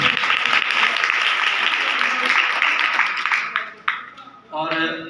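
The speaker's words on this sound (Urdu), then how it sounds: "فادر ہارون صاحب آپ کے لیے بھرپور تالیاں جی" An audience at a Lent season church gathering breaks into loud, sustained applause that fades after a few seconds, with a few final claps and a voice speaking at the end.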